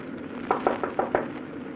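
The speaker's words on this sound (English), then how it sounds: "I knocked on the captain's door." Five evenly spaced knocks on a ship captain's cabin door, a radio drama sound effect, dull and moderately close over a steady background hiss.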